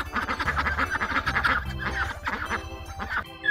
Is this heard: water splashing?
no